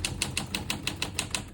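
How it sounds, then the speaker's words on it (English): A 1947 Smith-Corona Clipper portable typewriter is typed on at an even pace, about nine sharp close key strikes in quick succession over a faint background. "As you can see, all the keys type nice and none of them skip or stick."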